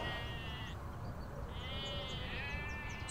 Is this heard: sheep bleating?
yes